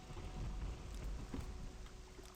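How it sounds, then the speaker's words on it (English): Rain falling in the video game Morrowind, a faint steady patter with a low rumbling undertone, continuous and without talk. "Nice rain."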